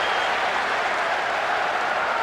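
A stadium crowd applauds in the PES 2008 football video game on PS2, a dense, even wash of clapping and cheering that holds steady and loud throughout.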